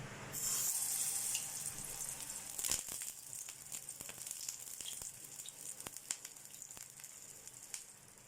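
Mutton shami kabab patty sizzling in a hot pan, a loud steady hiss that fades slightly after a few seconds, with scattered crackles and pops continuing alone.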